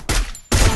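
Rapid gunfire in a multiplayer battle-royale shooter match: two loud, dense bursts of shots separated by a brief near-silent gap, heard alone without talk.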